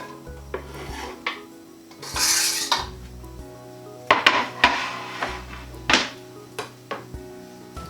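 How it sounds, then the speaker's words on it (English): Garlic and onion being stirred in oil in a pan for vegan paella, close metallic scraping and rasping strokes in short bursts, with a faint sizzle and quiet pauses between. "So we're just going to give that a quick stir around the pan, just to make sure it's coated in oil"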